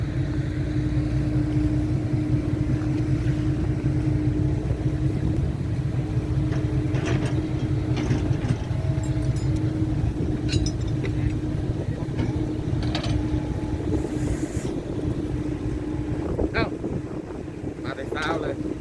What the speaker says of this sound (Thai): เสียงดังไหมรถอ่ะ ไม่ค่ะเสียงเบาเสียงเบาเหมือนเดิม